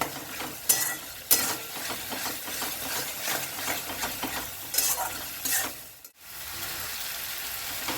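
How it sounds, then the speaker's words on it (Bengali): Mutton mince stir-fried in a pan for tarka dal, with a steady sizzle and a spatula scraping and clanking against the metal in repeated strokes, briefly cutting out near the end. "এবারে আমি কিমাটা দিয়ে দিলাম কিমাটা দিয়ে খুব ভালো করে কষবো"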